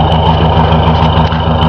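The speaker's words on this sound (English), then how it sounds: "It does have dual exhaust. It's real mild, but it's a nice little" A 1969 Ford Thunderbird with mild dual exhaust idles steadily close by, a low, even rumble holding without change and no voices over it.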